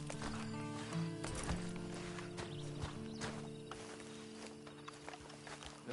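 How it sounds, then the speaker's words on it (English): A horse walking with a steady clip-clop of hooves, moderately close, over a dense bed of background sound and faint ambient noise, no talk. "Then you better get on this horse"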